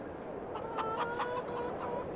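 Chickens cluck in the farming video game F4RMH4RD, a few soft overlapping clucks and warbles over a steady game background hum, moderately close and fairly quiet.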